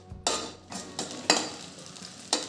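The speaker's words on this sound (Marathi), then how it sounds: "साबुदाणाही तुपात मी भाजून घेते थोडा।" Sago pearls roasting in ghee while being stirred in a pan, with several bursts of scraping and sizzling at irregular intervals, fairly close and alone without talk.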